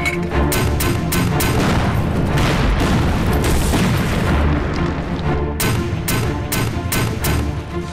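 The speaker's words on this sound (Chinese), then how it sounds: "冲着他们前沿阵地给我狠狠地轰" Mortar bombardment of front-line positions in a war film, a dense, loud barrage of booming blasts and crackling gunfire rolling continuously for the whole stretch, with sharper distinct detonations toward the end.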